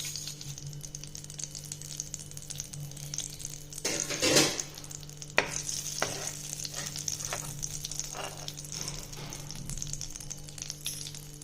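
Mustard seeds and fenugreek sizzle in hot oil as tempering for a banana flower kulambu: a constant fine crackle with a louder burst of spitting and popping partway through, then scattered sharp pops.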